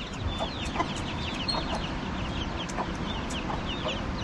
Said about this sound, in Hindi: हाँ मुर्गा